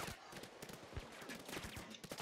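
Machine gun fire in Payday 2 rattles in rapid sustained bursts during a gold heist, with dense overlapping shots and a few heavier thumps, fairly quiet and continuous throughout.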